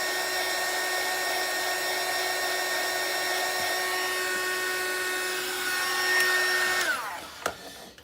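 An industrial hot air gun blows steadily while shrinking heat shrink tubing onto a 3D printer cable, a constant whooshing whine that runs alone until it cuts off near the end with a few brief clicks and handling knocks.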